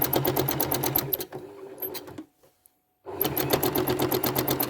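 A sewing machine runs during free motion quilting, with rapid, even needle clatter up close. It stops for about two seconds with near silence, then starts again at the same fast pace.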